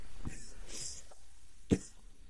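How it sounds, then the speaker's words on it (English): Two brief, sharp coughs from one person sound close in a quiet indoor room, separated by more than a second, with a faint rustle between them. "edit out that coughing"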